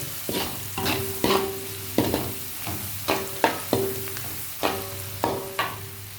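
A spoon stirs coriander powder through food frying in a pan, scraping in a steady rhythm of about ten distinct strokes over a constant sizzle, close and clear with no talking.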